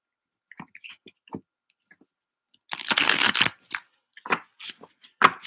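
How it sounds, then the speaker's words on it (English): Playing cards being shuffled: scattered light card clicks, then a dense riffling burst, followed by a few more sharp snaps and flicks, close and clear. "I'm shuffling the cards until I get comfortable with"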